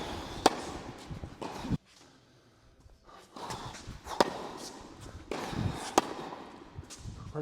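Tennis balls struck with a Babolat Pure Strike racket on a court, sharp percussive pops landing in irregular succession with a short quiet gap between shots.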